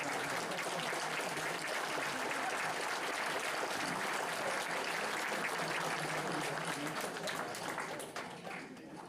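Loud, dense applause from a crowd celebrating newlyweds at a Valentine's Day ceremony, sustained clapping that fades slightly at the end.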